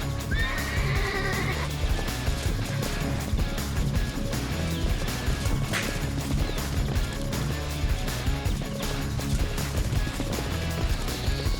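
Wild brumby horses in Australia galloping in a rush of dense pounding hooves, with a loud whinny near the start, all sounding close and continuous.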